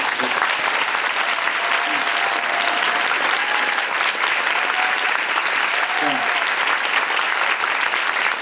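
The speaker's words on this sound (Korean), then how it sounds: "여러분 박수 한번 보내주십시오" Audience applauding steadily after a theatre performance of Orphans, a dense, sustained wash of clapping from a full house throughout, with a few voices faintly under it.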